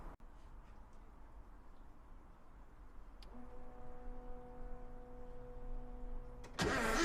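A Porsche 914 engine on a flat, weakening battery cranks over slowly and steadily, a low rhythmic churn that steps up and grows louder partway through, ending in a sharper burst of noise close by.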